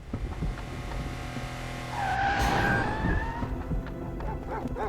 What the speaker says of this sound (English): Did Phoenix just get hit by a car?